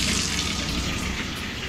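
Hot water gushing from a tap into a bathtub, a steady loud rush of splashing water that stays close and constant throughout, alone with no voices.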